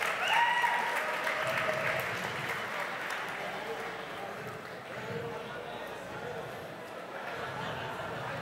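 Applause from the audience at an award ceremony for a nativist song festival, sustained clapping with crowd chatter and a voice talking over it throughout.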